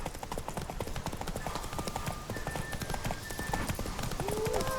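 Roach, Geralt's horse in The Witcher 3 on the isle of Skellige, clops along at a steady hoofbeat rhythm, close and moderately loud over ambient game sound, with a brief tonal cue near the end.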